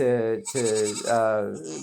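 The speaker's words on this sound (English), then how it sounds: "witness the goats, to sort of interface with the goats" Goats bleat in a few wavering, nasal calls, close and loud, one after another with short breaks between them.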